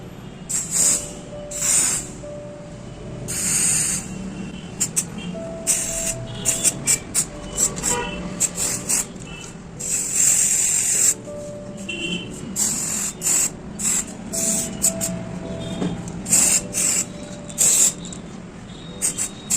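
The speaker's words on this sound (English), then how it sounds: "With the help of spray paint we will color it. I am using copper color." Copper spray paint hisses from a can onto a tea light holder in repeated short bursts and longer sprays, each with a crisp start and stop, close and loud, with no talking.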